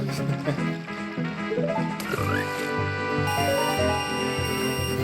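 Frogs in a Zelda video game singing along to an ocarina song, layered melodic tones with rising and falling pitched notes and a sparkling high chime near the end, alongside game music.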